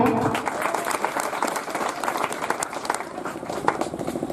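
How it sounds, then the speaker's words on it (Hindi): Applause from an audience at a coaching centre award ceremony as a performer receives a medal: brisk, steady crowd clapping, moderately loud and sustained throughout. "जोरदार तालियां।"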